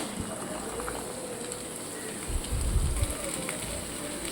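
Chopped beans hitting a pan of frying ginger garlic paste give a low, steady hiss that grows into a brief louder crackle near the end.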